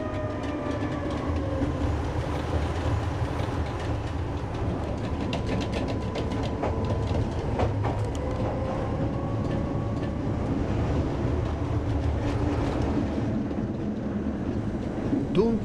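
Budapest tram on line 61 running on double track in its own right-of-way, heard from aboard trailer car 4118: continuous rumbling rail noise with clicking wheels and faint squeals, steady throughout.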